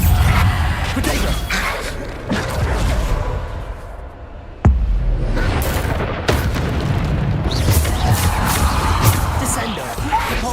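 Bombarda blast spell explosions in Hogwarts Legacy: a sharp, loud crack and deep boom cut through dense, rumbling combat noise, with continued heavy blasts and crashes following.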